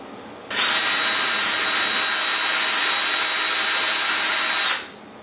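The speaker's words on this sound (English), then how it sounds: "Time to drill the shear pins to the nose cone." A power drill drilling shear pin holes in a model rocket nose cone whirs at full speed in one continuous burst of about four seconds, loud and close, with a steady high-pitched whine.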